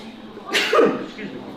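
A single abrupt sneeze, close and fairly loud, a sharp burst followed by a brief fading tail in a quiet room.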